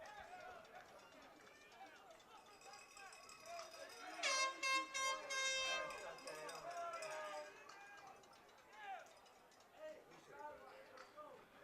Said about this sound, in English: I cannot tell if that air horn is coming from the crowd or from someone official on the field